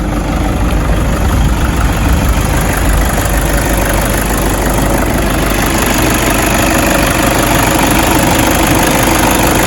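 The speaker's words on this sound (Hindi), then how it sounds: "तो ये रही इसकी आवाज़ इंजन की" A Toyota Innova diesel engine with about 280,000 km idles close by, a loud, steady, even rumble with a fine knocking texture that holds unchanged throughout.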